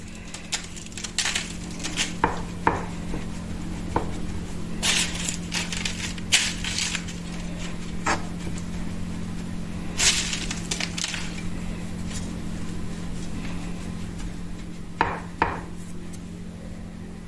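Kadayif for künefe pressed down firmly with a tray, giving scattered crunching and rustling contacts against a constant low hum, with no talk.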